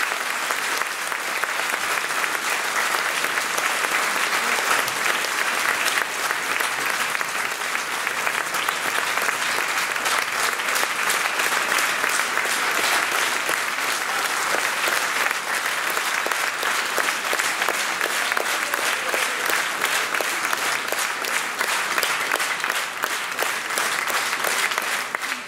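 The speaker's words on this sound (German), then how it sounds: "Euer Applaus." A large crowd at the closing ceremony of the 2018 state garden show in Burg claps for people being called up front, a dense, even wash of applause sustained for about twenty-five seconds without a break.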